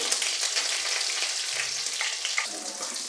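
Onion hitting butter in a hot pan with kasuri methi, cumin and a bay leaf, a bright close sizzle with light stirring scrapes, continuous and without talk.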